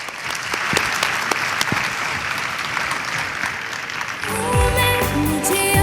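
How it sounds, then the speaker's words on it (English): A conference audience at the WIBCON 2023 Champions of Change panel applauds the CEO panelists, a loud, sustained roll of clapping that carries on as music swells in near the end. "A round of applause for our CEO champions, please."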